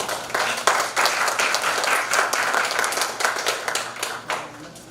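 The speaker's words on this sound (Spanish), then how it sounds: "Recibimos con fuerte aplauso." An audience at a lecture on patients' rights and bioethics gives strong, steady applause, many hands clapping in a dense, even wash for several seconds, with no speech over it.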